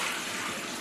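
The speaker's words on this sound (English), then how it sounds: "rinsed it a few more times in hot water just to be safe" Hot water running and splashing steadily as something is rinsed under a tap, a continuous broadband wash with no voices.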